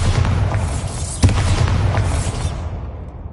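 A Bombarda explosion spell booms in Hogwarts Legacy, a single dull thump rising out of a steady low rumble of game sound before the noise thins and fades away.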